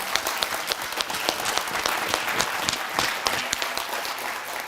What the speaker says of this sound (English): I think a round of applause is due there